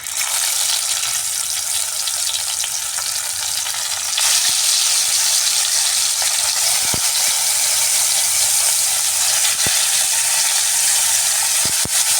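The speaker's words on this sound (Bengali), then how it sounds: "তেল গরম হয়ে গেছে এবার আমি নুন হলুদ মাখিয়ে রাখা মাছ দিয়ে দিচ্ছি" Rohu fish pieces rubbed with salt and turmeric fry in hot mustard oil, giving a loud, steady, dense sizzle that swells slightly partway through, with occasional faint clicks of utensils.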